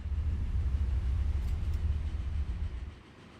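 A train in Transport Fever 2 rumbles along its tracks with a steady low roll and faint clatter, loud and continuous before easing off toward the end, with no voices.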